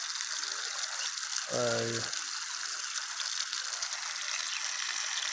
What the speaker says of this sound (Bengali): এই মরিচ গাছ, বেগুন গাছ সুন্দর মতন ভিজিয়ে দিব।